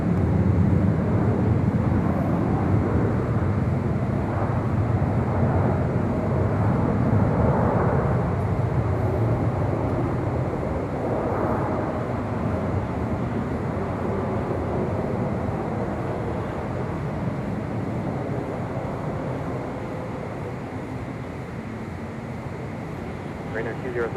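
A Boeing 777 heavy jet airliner touches down at LAX, its engines giving a steady, loud broadband roar that slowly fades over about 24 seconds, with faint radio chatter mixed in.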